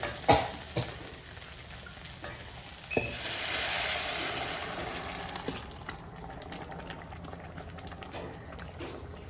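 Cooked lentils poured into okra in a hot frying pan, giving a burst of loud hissing sizzle that settles into a steady bubbling crackle with occasional stirring clinks; no one talks.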